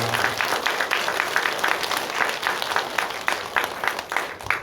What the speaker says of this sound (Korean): 우리 함께 축복하며 박수하도록 하겠습니다